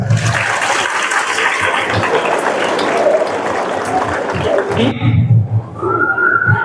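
Schoolgirls applaud at a girls' high school gathering: a dense, steady crowd of clapping for about five seconds, then it cuts off abruptly into quieter room sound with faint voices.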